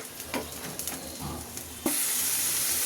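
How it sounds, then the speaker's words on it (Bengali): Ginger garlic paste fries in a pan with a steady sizzle and scraping stirs, then a sharp louder hiss of frying surges and carries on evenly to the end. "এটাকে আমি ভালো করে এখন ভুনতে থাকি, যাতে আদা রসুনের গন্ধটা দূর হয়ে যায়।"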